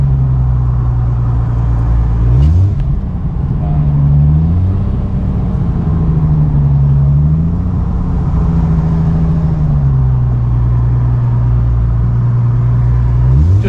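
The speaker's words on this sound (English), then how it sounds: "Love the sound. Yeah, that's why most people like the VR6." A modified Volkswagen Golf MK2 with a VR6 engine revs loudly and close, its steady rumbling drone rising and falling in pitch through several swells, with no talking over it.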